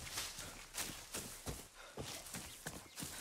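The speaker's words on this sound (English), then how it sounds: "sound of my horse neighing," A horse in the video game Far Cry 6 clip-clops along in a steady rhythm of hoofbeats, moderately close and fairly quiet, with no talking over it.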